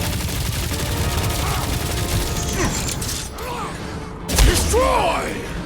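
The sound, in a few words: gunfire in the video game Guardians of the Galaxy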